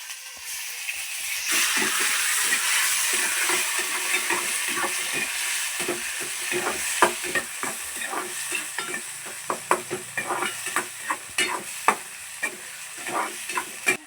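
Cumin, onion, green chili, curry leaves and tomato fry in a pan with a broad hiss, punctuated by frequent spatula scrapes and clatters that grow sharper and more rhythmic toward the end.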